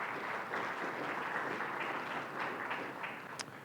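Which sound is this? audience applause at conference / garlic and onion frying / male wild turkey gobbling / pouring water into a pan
audience applause at conference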